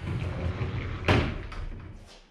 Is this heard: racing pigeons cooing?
no